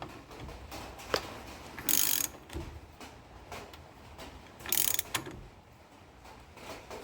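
Close, clicking ratchet strokes tighten a wheel bearing nut on a Triumph Spitfire, coming in irregular bursts with brief pauses and a couple of louder, sharper scraping rasps between them.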